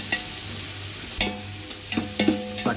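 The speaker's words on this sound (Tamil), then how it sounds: "ப்ரௌன் கலர் இன்னும் வதக்கிக்கிட்டே இருக்கீங்களா?" Onions and tomatoes sautéing for buffalo biryani, a steady low sizzle with a few soft spoon scrapes and stirring clinks standing out, close and moderately quiet, with no talking.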